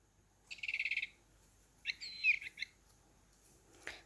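A Play and Chirp toy bird chirping, a quick burst of rapid trilling tweets followed after a pause by a warbling squeaky call and one short chirp, fairly close in a quiet room.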